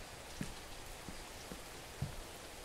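Rain falling in a scary video game, a faint, steady wash of patter broken by a few soft, isolated drips, with no voices.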